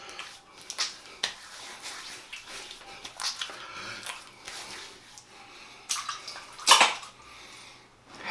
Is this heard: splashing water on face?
yes